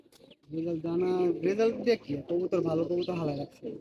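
Breeding pigeons give deep, throaty coos in a loud, close run of repeated calls broken by short pauses.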